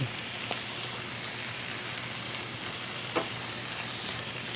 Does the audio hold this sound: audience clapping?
no